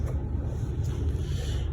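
Steady low rumble of street traffic heard from outside, a continuous broadband drone with some wind buffeting and no clear individual vehicle passes.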